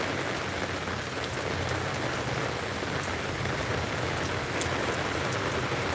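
Steady, dense rain drums on a surface outdoors at Smithsonian Gardens during a thunderstorm, a constant close wash of drops with no distinct thunderclap standing out.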